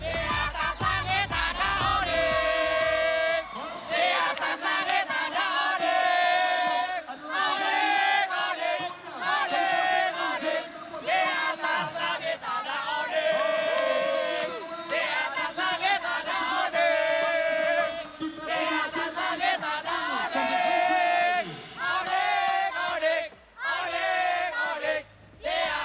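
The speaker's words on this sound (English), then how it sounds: "can we hear the chant or the cheer for Team Onyx?" Fans at a Mobile Legends: Bang Bang esports playoff match chant and cheer for Team Onyx, a loud, sustained crowd roar with rhythmic surges and brief dips throughout.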